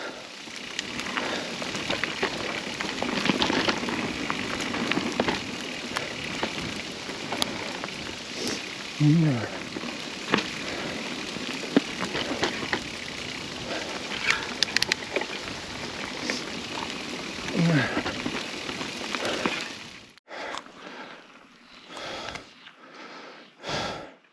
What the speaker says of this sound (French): Mais c'est pas de la petite grêle.